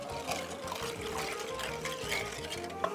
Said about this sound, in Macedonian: Ја додавам киселата вода.